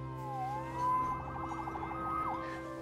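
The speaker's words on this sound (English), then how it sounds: "Saved by the siren." A police siren from the Marvel's Spider-Man video game wails at mid-distance, one rising and falling sweep that steadies into a long tone, then dips again near the end over a low steady hum of game ambience.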